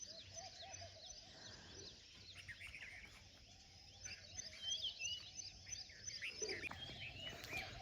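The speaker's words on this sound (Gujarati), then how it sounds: "પક્ષીઓ બોલતા હોય ને જો અહીંથી જ થતો છે." Birds call at dawn in a village. Faint, distant chirps and calls repeat over a continuous bed of insect buzzing and a low hum, with no talking.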